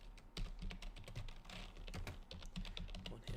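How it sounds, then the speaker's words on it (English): Quiet, irregular tapping of one-handed typing on a computer keyboard, keystrokes clicking in uneven bursts close by. "One hand typing right now."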